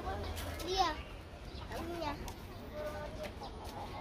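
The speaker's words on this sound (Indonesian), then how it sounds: "Ayam apa nih, Bang? Gede banget." A large chicken clucks a few times at a park petting area, faint beneath children's chatter and people talking nearby.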